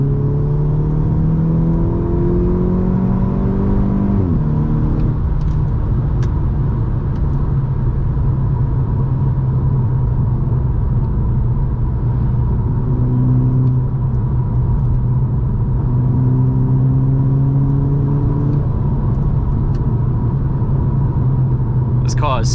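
A VW Scirocco engine drones loudly and close, its pitch climbing steadily as it revs up, dropping after a gear change, then rising again in shorter pulls.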